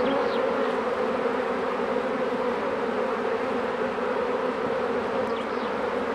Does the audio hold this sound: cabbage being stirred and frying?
no